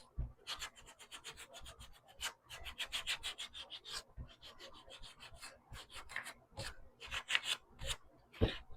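Hand sanding with 220-grit sandpaper on a thrift store furniture piece, quiet rhythmic rasping strokes in quick bursts with short pauses, close and alone.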